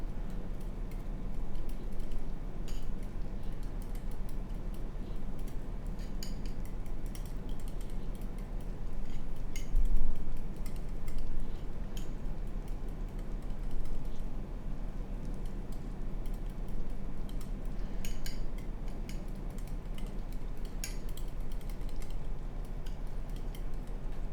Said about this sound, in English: then we can go back to whisking the eggs up a little bit more